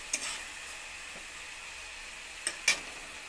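Spice masala with a little sugar frying in a pan for a potato curry (aloo dum) with kasuri methi: a constant soft sizzle with a few brief stirring scrapes, close and without talk.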